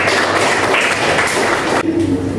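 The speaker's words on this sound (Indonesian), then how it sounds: "Oke, good, tepuk tangan." A university class clapping hands during a lesson, a loud, continuous patter of many claps filling the whole moment before a brief dip near the end.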